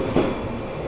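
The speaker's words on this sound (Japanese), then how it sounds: "関門トンネルでよく使われる415系という電車です。" A 415 series electric train, built to switch between AC and DC power, runs through the Kanmon Tunnel between Honshu and Kyushu, giving a steady close rumble with a brief louder swell near the start.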